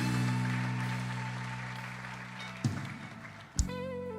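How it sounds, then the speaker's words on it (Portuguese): Church congregation clapping in praise during an evening worship service, a dense sustained wash of many hands with music-like tones underneath, breaking off briefly near the end. "Louva Ele com as suas palmas, irmãos."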